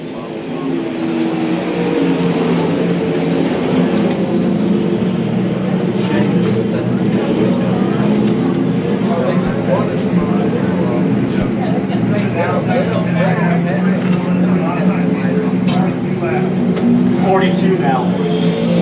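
Stock cars race on the Lakeside oval on a Friday night, with a continuous loud roar of engines passing. An announcer calls the race over the engine noise.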